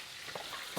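Food fries briskly in hot oil over high heat, a close, continuous sizzle with a couple of quick stirring scrapes in under a second.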